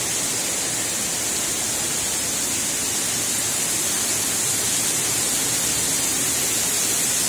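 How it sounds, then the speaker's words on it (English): Waterfall on a flooded trail, a steady, even rushing roar that fills the whole stretch without a break, moderately loud and alone. "Waterfall!"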